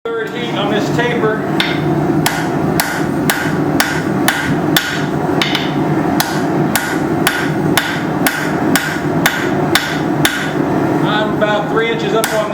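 Steel banister hooks are hammered on an anvil, the blows landing close and loud in a fast, steady rhythm with ringing metallic strikes, about twenty over several seconds.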